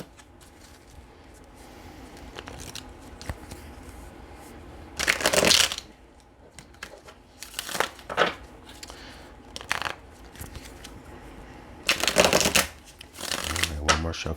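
Tarot cards being shuffled by hand close up, in three or four quick riffling bursts separated by quiet pauses, with a low background murmur between them.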